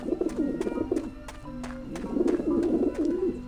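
Skeletal pigeons in Grim Fandango coo in repeated warbling bursts, close and fairly loud, with a short pause between two runs of calls and light clicking tapping underneath.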